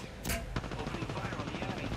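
Gunfire in the battle royale shooter Apex Legends, with a loud sharp burst near the start followed by a steady stream of rapid automatic shots that fills the whole stretch.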